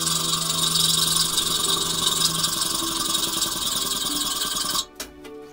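A homemade sword clamped in a mini vise is sanded with a power tool. A loud, continuous buzzing grind runs for nearly five seconds, then stops abruptly with a few short knocks.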